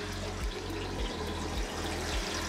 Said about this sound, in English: So it's still filling up, got a big drum to fill up.